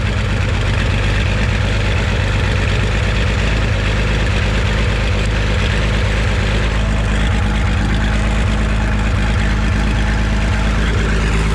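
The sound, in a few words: Oliver tractor engine idling, powering a grain dryer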